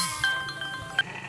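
Goats kept for sale, including nannies with kids around two to three months old, let out a couple of short bleats, near and moderately loud over a low background.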